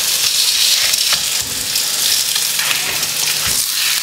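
Bun paratha frying in a hot pan, a steady loud sizzle with faint crackles and a few light scrapes or taps, no talking.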